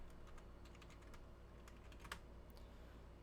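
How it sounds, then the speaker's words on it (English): Rapid, uneven clicks of typing on a computer keyboard, quiet and close, with irregular bursts of keystrokes and no voices. "My typing is terrible"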